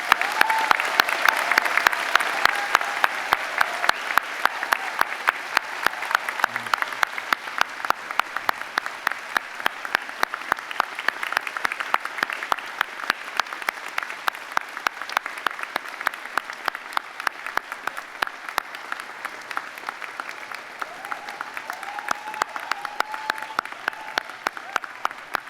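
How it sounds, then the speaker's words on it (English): A convocation audience applauds graduates at a spring ceremony for a faculty of social and applied sciences, a long, even wash of hall clapping with distinct hand claps sustained throughout, no voices over it. "join me in applauding each of you on the completion of your programs."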